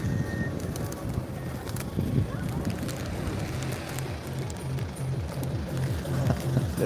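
Pigeons cooing on an Amsterdam street amid a dense flock being fed, low repeated coos over steady outdoor bustle and wing-and-foot clatter, moderately close.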